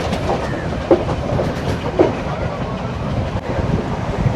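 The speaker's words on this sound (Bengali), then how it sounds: "ছেড়ে দিল আমাদের ট্রেন কালুতারা সাউথ স্টেশন থেকে।" A passenger train runs along the Sri Lankan coast after leaving Kalutara South station, its steady rumble and wind noise carrying throughout, with a couple of sharper clickety-clack wheel knocks standing out from the continuous rolling.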